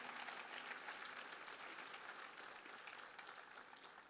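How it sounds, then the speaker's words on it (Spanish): Church congregation applauding, a steady wash of many hands clapping at a faint, distant level, continuous for the whole stretch without voices over it. "Dale un fuerte aplauso"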